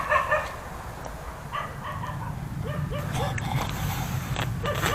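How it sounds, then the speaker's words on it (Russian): Dogs bark and yip in short bursts early in the morning in northern Vietnam, fairly distant over steady background noise. "Собаки меня как по будильнику в 7 утра разбудили."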